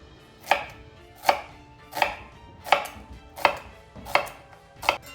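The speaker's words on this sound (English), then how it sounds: "Our onions are chopped, and add this to our bowl." Onions are chopped with a knife on a board for pico de gallo, seven evenly spaced crisp chops about every three-quarters of a second, close and clear with no talk.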